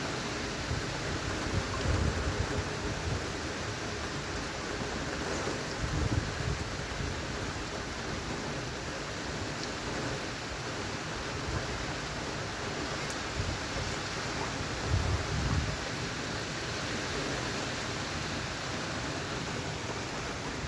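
Heavy rain pours down steadily in Gdynia, a continuous dense hiss with no voices.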